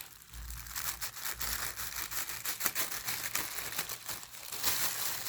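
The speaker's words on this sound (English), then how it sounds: "Cut all of the plastic bag until the end." Scissors cut through a thin plastic bag in a run of rapid crinkling, crackling snips, close by and fairly quiet, with no talking.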